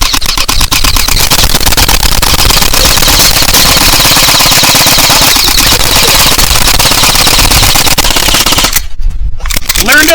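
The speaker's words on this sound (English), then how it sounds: "He's shooting at you from up on the hill!" Airsoft guns fire in a dense, sustained rattle of rapid bursts through an outdoor team game, loud and continuous, with a brief gap near the end.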